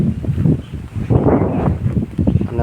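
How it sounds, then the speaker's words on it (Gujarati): Gusty wind buffets the microphone outdoors over farm fields during rain, a loud rumbling roar that rises and falls in uneven surges. "અને પવન બી ચાલુ છે,"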